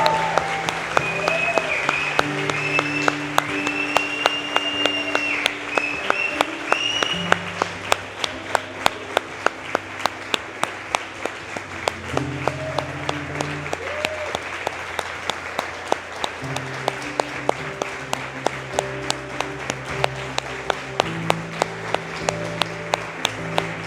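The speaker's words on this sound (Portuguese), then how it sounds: "a gente vai estar dando uma salva de palmas para todos eles" Sustained applause fills a church baptism service, steady clapping from a congregation with sustained organ or keyboard chords underneath, continuing evenly throughout.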